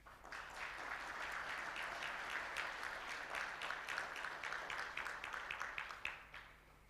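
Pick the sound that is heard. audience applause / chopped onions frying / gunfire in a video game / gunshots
audience applause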